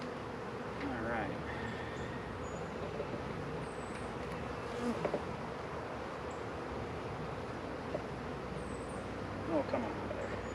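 Honey bees from a newly installed package swarm around a hive box during hiving, a steady low insect drone running throughout with occasional louder passes close by.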